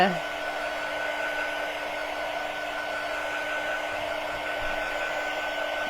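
A hair dryer blows steadily on freshly painted surfaces on a truck, a constant close whirring hum that runs unbroken from start to finish with no voices over it.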